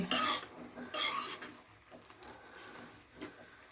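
Malabar spinach greens are stirred in a pan, with two short, bright metallic scrapes of a spoon at the start, then faint clinks and a quiet bump against a low, hushed background.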